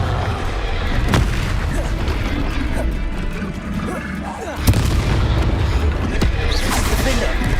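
Confringo explosive spell blasts going off in the video game Hogwarts Legacy, sharp booming impacts at intervals over a rumbling battle din, with a voice shouting spell names among them.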